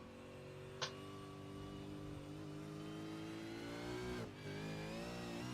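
A V8 Supercars race car at full throttle on the Road Atlanta circuit, a loud, continuous engine howl with pitch climbing steadily, a brief dip at a gear change, then pulling hard again.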